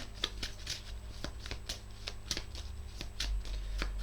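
Tarot cards shuffled by hand, a run of quick regular riffling snaps about four per second, close and fairly clear over a low hum.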